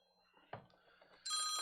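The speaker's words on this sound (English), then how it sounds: "hold on a minute, phone's ringing again." A telephone rings over an online voice chat, a bright sustained ring bursting in loudly near the end after a brief clatter and faint background talk.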